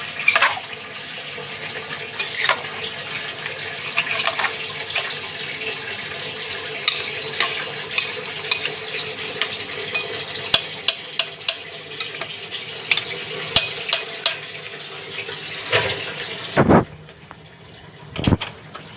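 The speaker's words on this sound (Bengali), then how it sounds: "আবারও মাংসটাকে আমি একটু জলের সাথে নাড়িয়ে দিচ্ছি।" Mutton stirred with a little water in a pan, a continuous wet bubbling hiss broken by repeated light spoon scrapes and taps, then a sudden drop to near silence with a couple of final knocks.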